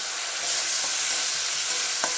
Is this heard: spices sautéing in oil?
yes